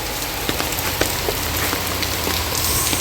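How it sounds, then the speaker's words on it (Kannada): Heavy rain pours down outdoors on a festival day, a dense, steady roaring hiss with scattered louder drop impacts throughout and no voices. "ಸಿಕ್ಕಾಪಟ್ಟೆ ಮಳೆ ಬರ್ತಿದೆ"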